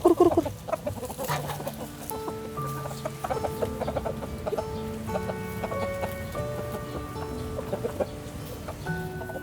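Backyard chickens clucking nearby, a steady run of soft, overlapping clucks and short calls from several birds, fairly quiet with no talking.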